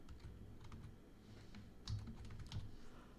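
A computer keyboard taps out a folder name in quick, soft keystrokes, faint and close over a low hum, with a slightly louder cluster of presses near the end.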